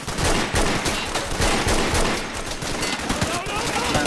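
Dense, rapid gunfire in the video game Insurgency, continuous bursts of shots crackling loud and close throughout, with some voices mixed in.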